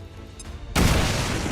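A grenade blast in the strategy game XCOM 2 goes off suddenly after a quiet lull: a single loud, close boom that holds as a dense, rumbling roar to the end.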